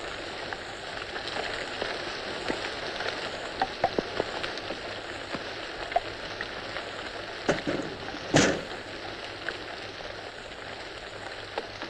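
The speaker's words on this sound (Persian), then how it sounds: "چه بارونی." Rain falls as a steady, moderately loud hiss, with scattered drops and knocks standing out, and no one speaks.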